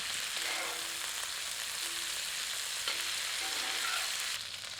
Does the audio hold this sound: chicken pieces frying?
yes